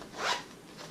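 Zipper on a tactical backpack pulled in one quick close stroke, then a fainter short second pull.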